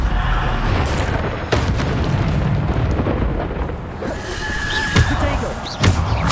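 Bombarda explosion spells go off in Hogwarts Legacy combat as repeated deep booming blasts over dense, loud battle noise, with voices heard throughout.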